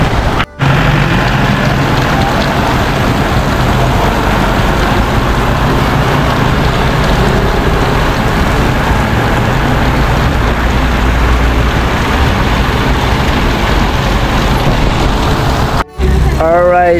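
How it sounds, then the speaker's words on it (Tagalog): Heavy rain pours down in a continuous loud roar for the whole stretch, a dense, unbroken wash of sound with only brief cuts near the start and end. "Malakas pa rin ang ulan mga ka-Jokes, no."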